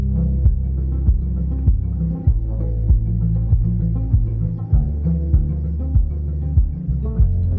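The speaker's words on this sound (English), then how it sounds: "I'm taking audio from the kick channel, which is here, and I'm using that to engage the compressor." Kick drum driving sidechain compression on guitars in a mix, the sustained guitar bed pumping and dipping in volume with each steady kick hit, a loud rhythmic throb with no voices.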